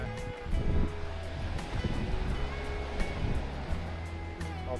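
Surf washing onto a secluded beach on a hike through Noosa National Park, a steady broadband roar of breaking waves with wind buffeting the microphone, continuous and fairly close throughout.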